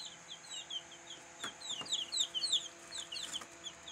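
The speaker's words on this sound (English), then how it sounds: "Good morning, baby chickens." Baby chickens in a coop in the morning: many soft, high peeps and chirps overlap in quick bursts, close and fairly quiet over a low steady background hum.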